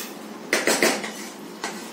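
A spoon clinks and scrapes against a metal pot while eggplant curry is mixed, a few sharp knocks in quick succession then one more after a pause, close and fairly clear.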